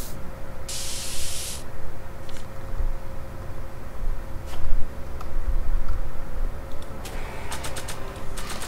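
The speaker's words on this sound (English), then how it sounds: "Why don't you just start spraying the wall?" A spray paint can in Back to the Future: The Game gives off steady hissing spray bursts over a continuous game background hum, with short ticking clicks near the end.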